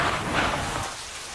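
Heavy rain pours down in a Malayalam film scene, a steady dense hiss of downpour filling the short stretch, fairly loud and even, with no voices over it.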